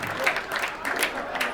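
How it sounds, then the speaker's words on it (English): A crowd at a stand-up comedy show claps in a steady, dense wash of applause that lasts the whole moment. "Thank you for clapping"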